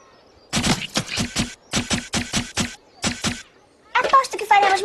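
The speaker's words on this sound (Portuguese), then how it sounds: "Veja, estante de tiro." Cartoon shooting-gallery gunfire at a fairground stand: three quick bursts of rapid, sharp shots separated by short pauses, fairly loud, followed by a burst of animated voices at the end.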